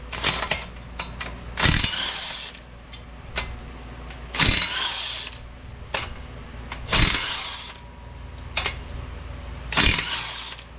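Impact gun removing 15 mm bolts on a 2004 Chevy Avalanche with a 5.3L LS engine, five sharp bursts of rattling hammering spaced a couple of seconds apart, with quieter shop clatter in between.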